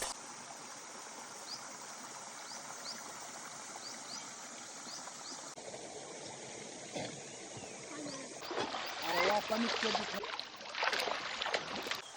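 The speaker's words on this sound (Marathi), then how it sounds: "पाण्याचा आवाज तुम्हाला ऐकायला येतोय का?" Steady broadband rush of flowing water, a hot-spring-fed river running continuously, growing louder and more turbulent in the second half.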